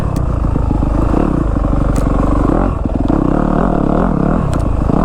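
A Yamaha YZ250F four-stroke dirt bike rides a tight wooded trail, close and loud with a throbbing engine that revs and eases, plus clatter from the rough ground.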